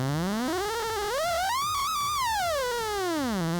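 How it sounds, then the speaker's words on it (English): Theremin controlling a synth oscillator, producing a buzzy electronic tone that glides smoothly upward, wavers at the top and sweeps back down over a few seconds, with a pulsing rhythmic pattern underneath. "A really popular one is this gadget called a theremin"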